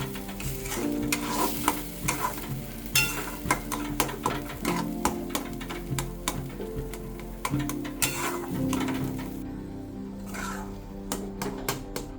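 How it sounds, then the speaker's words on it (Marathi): Semolina sheera being stirred in a pan while it fries and sizzles, with a continuous scraping and clicking of the spoon against the pan at close range and no voices. "याला हलवीत राहायचं आणि त्याच्या गुठळ्या होत राहते."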